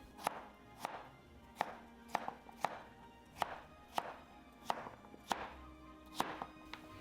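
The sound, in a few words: cutting smashed cucumber into half-inch pieces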